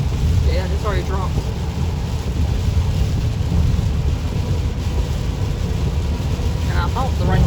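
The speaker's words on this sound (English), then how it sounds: "it's 4:37 now and it's still raining" Rain drumming on a moving car in South Carolina or Georgia, a loud, dense steady wash mixed with road and engine rumble, with brief voices speaking inside the car.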